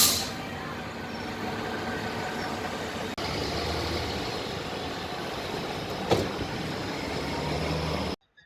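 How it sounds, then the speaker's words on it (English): Inside Dubrovnik's city bus number 3, the engine drones steadily under a broad rumble for several seconds, with a soft click and a brief rattle before it cuts off abruptly. "So I'm in a bus now"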